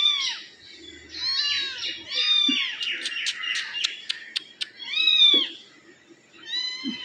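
A cat meows repeatedly in a home, with several drawn-out, rising and falling cries close by, spaced a second or so apart, and a quick run of short chirping calls in the middle.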